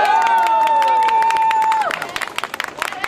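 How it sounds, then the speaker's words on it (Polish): A theatre audience greets an announced guest as a sustained musical tone rings out and then breaks off, giving way to scattered, sharp clapping and crowd noise. "Bijemy brawa."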